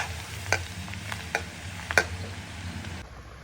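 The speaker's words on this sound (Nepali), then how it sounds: "काटेको अदुवा लसुन लाएर मजाले चलाउने" Chopped ginger and garlic frying in a pan for Nepali dalle chilli achar, with a soft steady sizzle under a few distinct clicks and scrapes of a utensil stirring against the pan, close and without talking.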